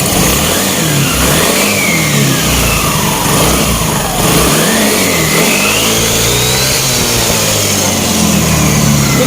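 Yamaha Nuvo 135 scooter engine revved repeatedly to full throttle, loud and close, pitch rising and falling in waves with a brief dip midway and no talking.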